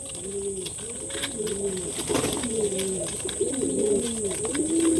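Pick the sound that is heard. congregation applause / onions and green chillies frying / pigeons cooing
pigeons cooing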